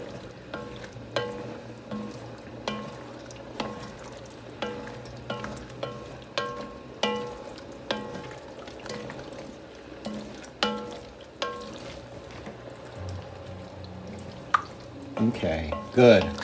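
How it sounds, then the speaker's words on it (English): Mushrooms stirred into a frying pan for chicken chasseur alongside carrots and onions, with a soft steady sizzle under repeated light scrapes and taps of a utensil against the pan. "Stir them in."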